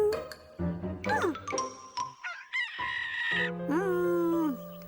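A rooster on a farm crows and clucks in a series of bright, bending calls with short pauses between them, ending in a long, sustained crowing note, with light chiming touches around it.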